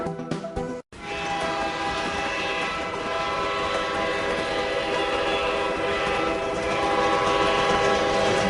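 A train engine sound effect rolls along steadily with a sounding horn and rhythmic clickety-clack of rail cars, loud and continuous after a short choppy start.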